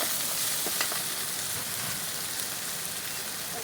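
Onion and tomato sizzle steadily while being tempered in a hot pan, a continuous close frying hiss with faint crackles and a few stirring clicks, no voices.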